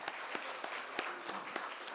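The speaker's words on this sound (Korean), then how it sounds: "크게 영광의 박수를 돌립니다." A church congregation claps together during a Korean Sunday worship service, a short burst of even, rhythmic applause heard from a distance in a large room.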